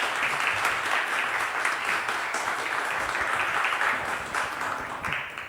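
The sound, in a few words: applause for Humberto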